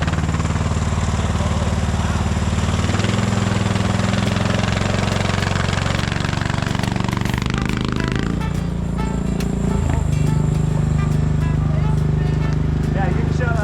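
A fast riding lawnmower engine with a foot throttle runs loud and steady nearby, a deep droning rumble that shifts pitch partway through, with voices talking over it.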